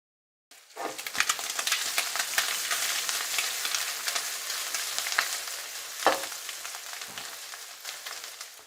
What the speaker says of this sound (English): I'll throw a bunch of parsley on the top. So listen to the cracking sound.